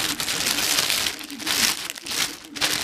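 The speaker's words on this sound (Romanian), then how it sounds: "Această frișcă o voi pune într-o pungă." A plastic freezer bag crinkles and rustles in bursts as it is handled to be filled with freshly whipped cream for a Black Forest cake, close and fairly loud with no talking.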